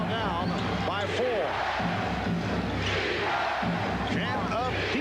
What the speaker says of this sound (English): Chant of defense from the crowd.